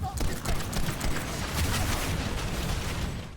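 An NS-30 Vandal semi-auto scout rifle in PlanetSide 2 fires a rapid string of shots amid dense battle noise, the cracks blending into a continuous clatter under a voice.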